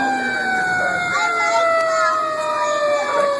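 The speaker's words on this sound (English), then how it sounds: "the siren actually isn't so loud when we're sitting in here" A fire truck siren rises and falls steadily, heard muffled from inside the cab during an emergency call, with engine rumble underneath throughout.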